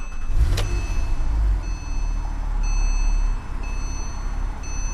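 A Porsche 997.2 C4S engine idles after an oil change with a low, steady rumble that swells slightly and settles. A brief clunk comes near the start, and no one speaks.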